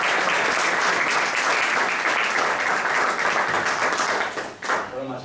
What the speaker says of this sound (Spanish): un aplauso aquí para nuestro invitado